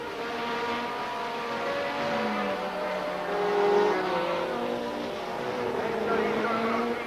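Formula One cars race at Monza in 1979 as the leaders approach the chicane, their engines a steady, loud, multi-toned howl with pitch shifting as they pass, under continuous commentary.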